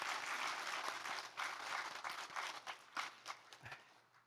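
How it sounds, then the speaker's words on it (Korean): A church congregation applauding at a Sunday service, a dense burst of many hands clapping that thins into scattered claps as it fades, fairly quiet and distant. "우리 박수하겠습니다."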